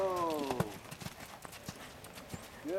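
A horse's hooves clip-clop in an uneven series of close thuds during a riding lesson, while a rider or instructor speaks briefly over the footfalls.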